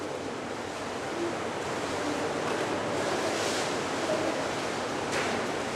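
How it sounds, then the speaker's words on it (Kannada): Rainwater pours through a pipe into a well as part of a rainwater harvesting setup, a steady, dense rushing wash of water, close and continuous with no talk. "ಅದರಲ್ಲಿ ನೀರು ಹೋದ್ರೆ ಯಾವ ರೀತಿ ಹೋಗ್ತದೆ ನೋಡಿ."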